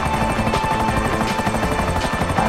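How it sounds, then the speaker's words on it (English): Helicopter rotors thump steadily in GTA V Online during a heist mission, a continuous loud in-game drone with a rhythmic low chop that holds without a break for the whole stretch. "here there's some helicopters"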